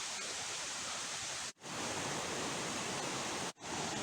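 The tall, wide Curug Pancaweleh waterfall on the Cibodas trail up Gunung Pangrango pours with a loud, steady rushing roar, close by and unbroken except for two brief cuts.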